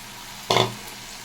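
Water poured into a pan of soft, cooked ridge gourd curry gives one brief, sharp sizzling splash that quickly fades into faint background hiss.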